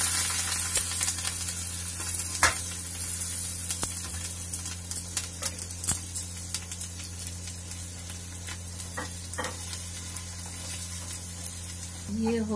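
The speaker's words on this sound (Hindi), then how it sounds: "ये हो गया मेरा तड़का तैयार कढ़ी का" Tempering spices, red chillies and curry leaves crackle and sizzle in hot oil for kadhi, with scattered sharp pops over a steady hiss and a low background hum.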